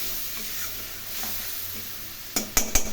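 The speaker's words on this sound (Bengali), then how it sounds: "এগুলো একটু কষিয়ে নেব তেলের মধ্যে।" Salt, turmeric and spices frying in hot oil for a Bengali fish curry, a faint steady sizzle broken near the end by a few sharp clinks of a utensil against the pan.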